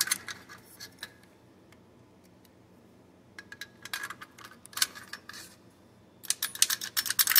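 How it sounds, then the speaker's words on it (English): Sharp, dry clicks from the ratcheting parts of an AR-15 forward assist roll pin assembly come in quick irregular bursts, close and fairly faint, with quiet gaps between clusters. "Let's see if those ratchets work."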